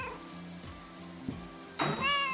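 Cats in the Powerwash Simulator 2 video game meow several times, with short drawn-out calls, a louder one near the end, over a faint background hum.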